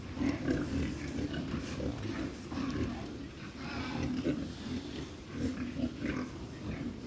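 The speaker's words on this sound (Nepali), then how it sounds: "दक्षिण कोरियामा चाहिँ यसरी बङ्गुर चराइराखेका छौँ" Pigs out grazing on a farm in South Korea grunt and snort continuously at close range, a low rumbling chorus over steady background noise, with no talking.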